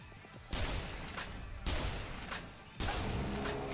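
Rifle headshots fired in Yakuza Dead Souls, three loud sharp gunshot bursts spaced about a second apart, each leaving a noisy rumbling tail over steady game background.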